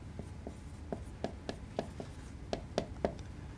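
Pen or chalk writing a note, a series of soft scratchy strokes and taps in an irregular rhythm, close and quiet with no talk.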